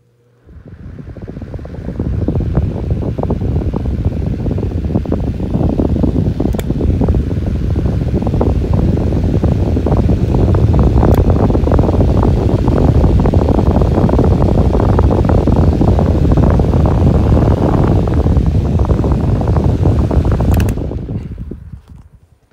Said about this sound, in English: here is a 9-inch high velocity fan with the skinny blades. Let's go ahead and run it